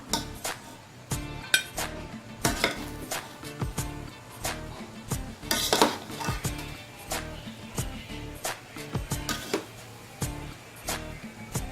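Mutanjan rice being dished out with a metal spoon, repeated close clinks and scrapes against a pot and plate at an uneven, steady pace with no talk.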